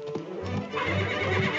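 A horse whinnies loudly in a fast-paced racetrack film trailer scene, its neigh rising over clip-clopping hooves and general bustle for under two seconds.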